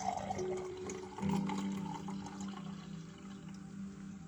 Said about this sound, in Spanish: Vamos a llenar este vaso a ver cómo queda.